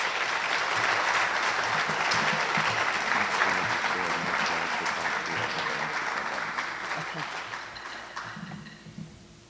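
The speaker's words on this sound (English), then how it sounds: "Let's give them a round of applause." A crowd at a partnership launch event applauds the cheerleaders and drumline, loud sustained clapping that gradually thins and fades toward the end.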